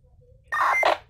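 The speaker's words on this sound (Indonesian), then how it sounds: "PTT ID atau Roger Bip eh, akan berbunyi setelah switch PTT ditekan ya sekali lagi saya tekan" A handheld two-way radio transceiver gives its roger beep after the push-to-talk switch is released: a short, loud electronic tone in two quick parts, heard alone over a faint background hum.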